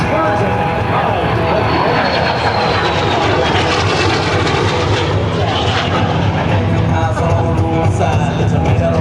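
A British-built jet aircraft of Hawker design, with roots in 1950s–60s Britain, roars loudly and continuously during an air show flypast, with a broad engine rumble and a rising and falling whine. An announcer talks over the noise.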